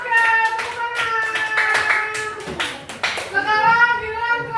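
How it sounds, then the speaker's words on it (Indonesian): Classroom applause: a short burst of clapping hands mixed with children's voices calling out, close and lively, fading slightly midway before picking up again. "Oke, tepuk tangan."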